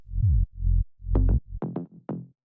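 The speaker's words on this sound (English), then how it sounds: "Sub bass." Deep sub bass notes from an electronic track, a few sustained low tones in short phrases, fairly loud and alone, with brighter plucked bass hits layered in toward the end.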